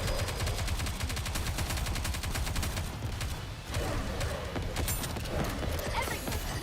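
Rapid gunfire in the video game NIKKE Goddess of Victory, sustained automatic bursts of fast, evenly spaced shots, loud and close, with a brief dip midway before the firing resumes.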